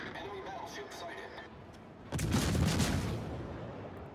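Naval gunfire from battleship shells in the World of Warships game: a deep booming salvo erupts about halfway through and rolls on as a loud rumble, following quieter background game noise.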